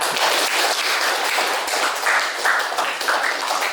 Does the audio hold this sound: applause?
yes